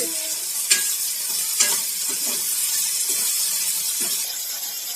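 Brinjal pieces sauté in oil with powdered salt, giving a steady bright sizzle broken by several louder scraping stirs of a spatula through the pan.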